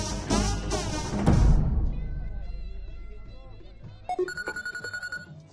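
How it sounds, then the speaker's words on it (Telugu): A mobile phone rings in a film scene: brief talk at the start gives way to a quiet tonal melody, then a clearer repeating electronic ring with pulsing beats near the end. "జ్యోతిలక్ష్మి స్విచ్ ఆఫ్ చేయలేదా?"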